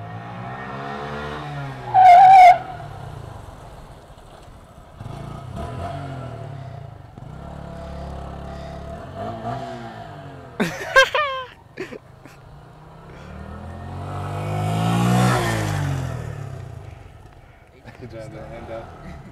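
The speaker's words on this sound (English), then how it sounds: "I'm gonna burn my clutch out." A KTM motorcycle engine revs hard while the rear tire squeals and skids in a clutch burnout, with loud bursts and a long rising roar up close, and voices talk over parts of it.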